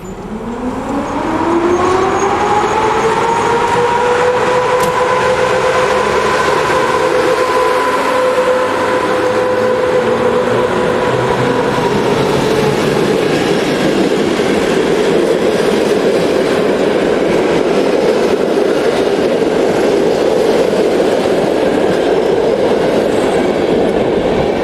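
A railway locomotive roars loudly past on a European main line at Chev, starting with rising tonal whines and swelling into a continuous heavy roar that lasts throughout.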